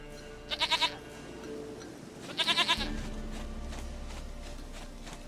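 Two short goat bleats from The Witcher 3: Wild Hunt, each a quick quavering burst spaced about two seconds apart, heard over a low ambient game background with no talking.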